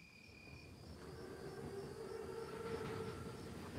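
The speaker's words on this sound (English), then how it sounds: "Train's right on time. Biggest train I've ever seen." Armored train rolling past in the World War II shooter Call of Duty WW2, a steady low rumble and wheel drone that gradually swells louder, with faint high tonal squeals riding on top.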